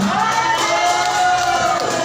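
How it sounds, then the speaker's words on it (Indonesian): Crowd at a community wellness therapy gathering breaking into sustained applause with cheering voices and music, dense and loud throughout. "Tepuk tangannya mana?"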